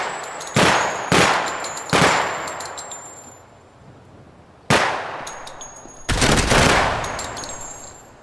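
Single loud rifle shots in 5.56 and 30-06 ring out during a weapons test, five sharp reports spaced unevenly, each followed by a ringing decay and faint metallic clinks.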